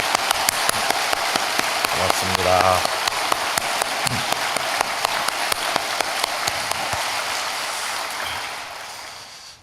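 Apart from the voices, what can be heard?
church congregation applause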